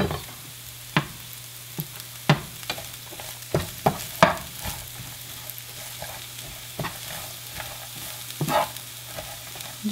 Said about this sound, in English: we're just going to stir fry this over a medium heat